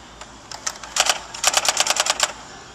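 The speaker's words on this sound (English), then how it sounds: "Did you know they still make typewriters?" A typewriter in a shop clacks with sharp, irregular keystrokes that speed into a quick burst of close, crisp clicks, with no talking.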